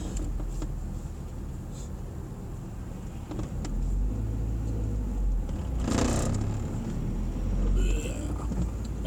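Manual transmission truck pulling away in a low gear, a close, steady engine rumble that swells as it accelerates, with a couple of brief rattles and clunks from the cab.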